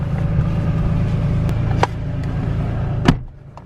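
A Lexus IS300 engine idles steadily with the air conditioning running, a low, even hum close by, broken by a few sharp clicks before it drops quieter at the end.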